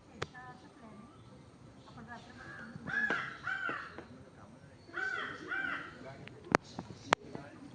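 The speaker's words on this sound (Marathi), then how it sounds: "इथे मला एक पक्ष्याचा आवाज सुंदर येतोय" A crow caws outdoors in a green coastal setting at Alibag, with two paired calls a few seconds apart, moderately near and fairly clear over a low background with faint talk.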